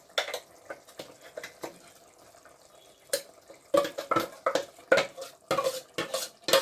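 Ground masala is added to a pot and stirred in, giving a string of clinks, scrapes and wet stirring knocks, sparse at first and then busier and louder near the end, with no talking.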